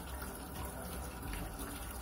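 Tap water runs in a steady, even stream while fish gills and innards are cleaned beneath it, a continuous close splashing hiss with no talking.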